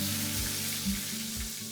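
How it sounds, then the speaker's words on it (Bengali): Onion paste dropped into very hot oil in a wok crackles with a steady sizzle, broken by a few soft stirring scrapes, fairly quiet and with no talking. "এখন আমি এটা পেঁয়াজ বাটা দিয়ে দিতেছি।"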